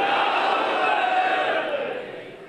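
A large crowd at a religious celebration shouts back a slogan in one sustained, massed roar that fades slightly at the end.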